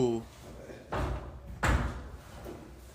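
Toilet stall doors in a women's restroom are knocked and shaken, giving two distinct heavy thuds with rattling, heard at a moderate distance after a brief voice at the start.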